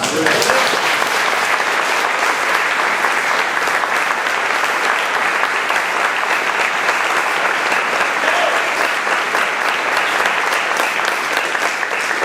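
Congregation at an evangelical church service applauding in praise of Jesus, a loud, dense, continuous wash of clapping sustained throughout with no break.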